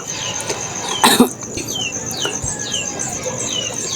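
A single short, loud cough cuts through a steady background of chirping and squeaking noises.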